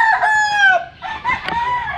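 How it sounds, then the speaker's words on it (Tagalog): Rooster crowing among a large flock of chickens, one loud, close, drawn-out crow followed by another shorter call and some clucking. "Daming manok"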